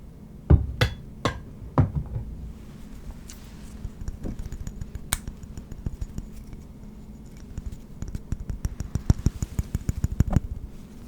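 Sharp clinks and taps of a glass jar lid with a rubber gasket being handled, a few loud knocks early on, then rapid clusters of small clicks and rattles.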